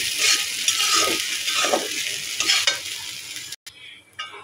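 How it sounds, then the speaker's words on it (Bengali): Sago pearls being stirred and fried in hot ghee, a steady crackling sizzle with scraping stirring strokes throughout, then a brief cut near the end before the sizzle resumes. "এবার নেড়ে করে ভালোভাবে সাগুগুলো ভেজে নেব"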